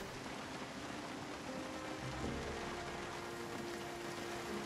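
Steady rain in the Project Zomboid video game hisses as a soft, even wash, constant and fairly quiet with a faint low hum underneath.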